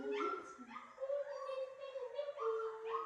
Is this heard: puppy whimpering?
yes